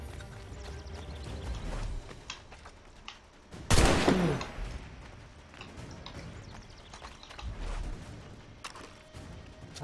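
A single loud gunshot from a musket or pistol in Assassin's Creed III rings out once near the middle, standing out over a busy game background of hooves and ambient noise.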